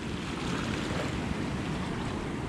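Wide river mouth in Jamaica in bad weather with rain about, a steady loud rushing wash of muddy water flowing continuously with wind noise, no voices.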